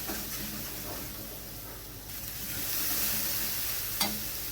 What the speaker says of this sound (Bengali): দিয়ে আমি ভালোভাবে আবারও মশলাটা কষিয়ে নেব